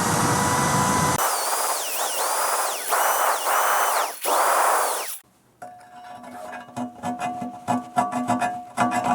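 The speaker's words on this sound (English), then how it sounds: "a little die grinder and clean that up a little bit" A die grinder whines at high speed, bogging and rising in pitch as it cleans up a rivet hole in a 1978 Corvette control arm, close and loud, then gives way to scraping and clattering metal.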